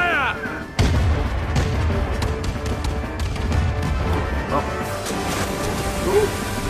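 Heavy cannon fire in Kingdom Hearts 3 booms out in a sudden loud blast, followed by crashing impacts and rumbling debris among scattered sharp hits, with a voice crying out over the battle.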